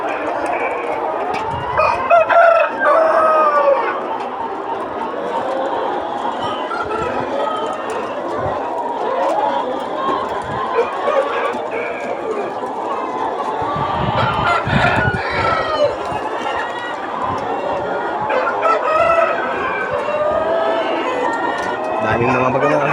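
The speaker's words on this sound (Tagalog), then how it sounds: "daming mga manok idol, no?" Chickens cluck and roosters crow at a farm, with overlapping calls rising and falling continuously across the scene while people talk nearby.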